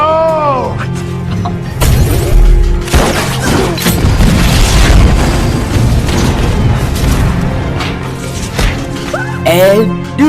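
Firecrackers set off in a film scene burst in a loud, dense run of booms and crashes, mixed with music and a narrator's voice talking over them.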